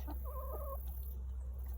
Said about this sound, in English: The Bougie Chickens are happy.